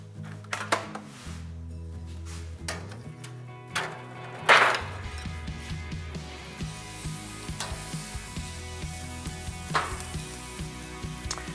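Flank steak hits a grill and sizzles steadily, a bright crackling hiss that builds after a few clattering knocks and stays close and continuous under light background music.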